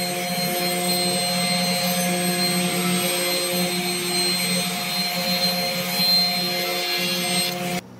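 A table saw rips a poplar board in a woodworking shop, a loud, steady, close whine with a constant motor hum that holds for several seconds before cutting off at the end.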